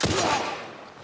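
A single loud gunshot in The Last of Us Part I, a sharp blast with a reverberant tail that decays over about a second.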